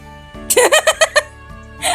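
A short burst of rapid clucking from a Minecraft chicken, about six quick notes in a row, close and fairly loud, with a brief extra cluck after a pause.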